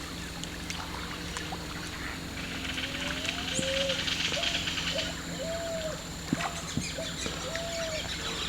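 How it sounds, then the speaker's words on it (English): Various wild birds call across the Pantanal in Brazil, heard from an idling boat with its engine off: repeated whistled notes and chirps come and go, moderately near, over a soft, steady background hiss. "amazing the different birds you hear when you're sitting at idle here with no engine on"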